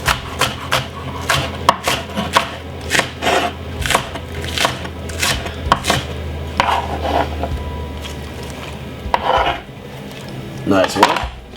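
Knife chopping spring onion on a board, rapid uneven knocks in bursts, close and clear, with a few cutlery-like clinks.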